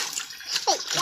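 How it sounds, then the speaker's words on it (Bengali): Water splashes and sloshes as fish are washed in a basin, a short wet burst close by with a voice speaking over it. "মাছগুলো ধুয়ে নিই"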